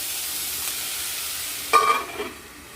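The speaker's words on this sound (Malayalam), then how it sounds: "ആദ്യം ഞാൻ കുറച്ച് സവാള അരിഞ്ഞതങ്ങ് വഴറ്റിയെടുക്കുവാണേ" Chopped onions sauté in a small kadai, a soft steady background hiss that swells into a brief louder sizzle and stirring burst near the end before easing off.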